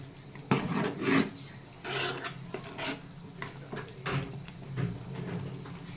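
A thick goat pancreas and gongura curry being stirred in a pan, with repeated rough scraping and rasping strokes of the spoon along the pan bottom, close and moderately loud.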